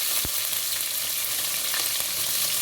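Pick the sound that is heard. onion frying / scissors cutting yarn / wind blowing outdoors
onion frying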